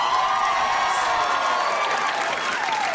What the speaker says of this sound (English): Here's what I know about all those people screaming just now.